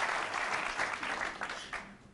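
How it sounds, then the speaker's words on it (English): A crowd at the World Pool Masters semifinal breaks into sustained clapping, a dense patter of many hands at moderate distance that fades slightly toward the end. "give an applause for what's looking like being a victory for Rico Drago."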